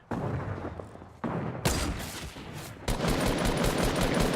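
Video-game gunfire from a sniper rifle in a shooter match. Heavy, dense bursts of shots come in abrupt loud sections, with no talk over them.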